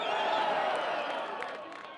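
A large crowd at a Marine Corps 250th commemoration cheers and whoops in a steady, loud roar that tapers off slightly, with scattered clapping mixed in.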